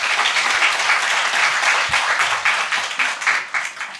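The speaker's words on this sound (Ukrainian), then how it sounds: "Я думаю, всі приєднаються до цих оплесків" Studio audience applauding during an interview, a dense, loud burst of many hands clapping together that holds steady, then thins into looser, uneven claps as it tapers off.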